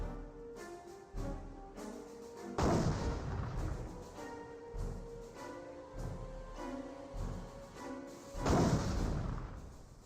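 Anti-tank Panzerfaust fire and heavy blasts in the World War II strategy game Company of Heroes: several booming launches and impacts at irregular intervals, loud and near, over a steady rumbling battle background.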